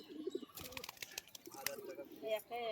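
Pigeons cooing softly in a loft, a few low coos and chirps at moderate distance, with brief rustling and a voice speaking over them.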